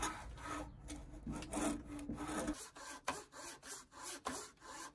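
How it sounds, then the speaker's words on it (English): A hand saw cuts a wooden dovetail for a Japanese-style tabletop workbench, producing quiet, close, rhythmic rasping strokes that first run long and later turn shorter and quicker. "I cut it all the way with a saw by using the saw cuff as a reference"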